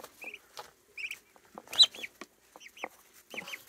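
Young chickens growing in their feathers give soft, close clucks and short chirping calls in scattered bursts, with brief pauses between them and no talking.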